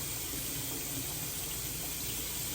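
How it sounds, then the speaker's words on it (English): Tap water runs steadily into a bathroom sink while a salicylic acid face mask is rinsed off, a continuous close hiss with no breaks and no talking. "I know I'm running the water, guys, but there's just no way to get this mask off without running the water."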